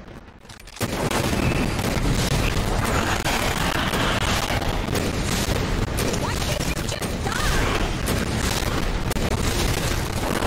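Dense, sustained roar of destruction from a rocket explosion in Resident Evil 2 Remake, bursting in loudly after a quieter first second and rumbling on without break for about ten seconds, crowded with crashes and booms.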